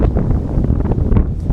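Strong wind sweeps across a golf course, buffeting the microphone with loud, gusty rumbling that swells and dips continuously.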